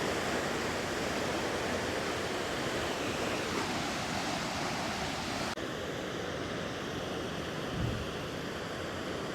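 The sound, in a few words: fast-flowing water through lifted dam gates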